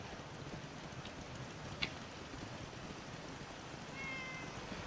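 A cat meows once, briefly and faintly, inside the video game Fallout 4, over a steady low background hiss and ambient game noise, with no voices.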